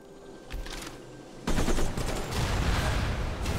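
Tactical jets bomb aliens in the strategy game Civilization: Beyond Earth. A few muffled thuds lead into a sudden loud, dense burst of rapid blasts that keeps rumbling to the end.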